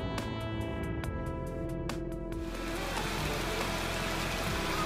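Rain pours during the rainy season in Bali, a dense steady hiss of drops on surfaces, preceded by a series of sharp regular ticks that fade as the downpour fills everything.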